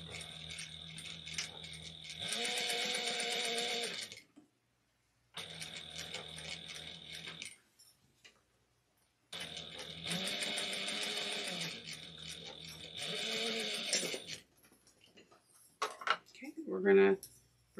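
A sewing machine basting fabric for a mini convertible runs in two longer bursts of steady mechanical whirring, separated by pauses and softer handling clatter.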